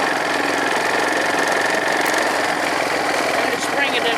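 A car engine idles slowly after a cold start, a continuous, even mechanical churn with a faint ticking texture, close and fairly loud, running alone without any speech.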